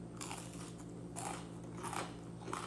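Crispy fried enoki mushrooms bitten and chewed, several crunchy crackling bites in quick succession, close and quiet with no talking.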